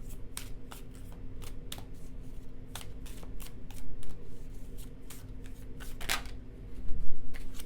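Tarot cards drawn and laid out one at a time, crisp sliding flicks and soft slaps repeating in a loose rhythm, close and moderately loud over a low steady hum.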